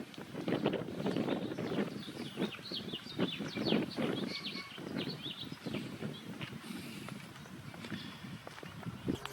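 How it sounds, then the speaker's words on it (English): Wind gusts buffet the microphone outdoors at a national monument on a cloudy evening, a continuous rough rumble with scattered knocks and thumps throughout. "It's a little bit cloudy and a little bit windy"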